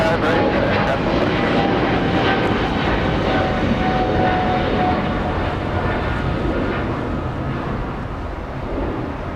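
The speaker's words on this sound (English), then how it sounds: "And a big freighter flying all the way to Shanghai" Boeing 747 freighter at Los Angeles International Airport, a loud sustained jet engine roar with a whining tone that holds steady and then slowly eases, and some talk faintly mixed in.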